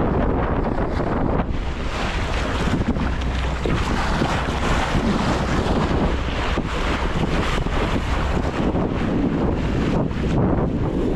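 Strong wind buffeting the microphone on a fishing boat in the Pacific, with a constant roar of rushing air and water around the boat.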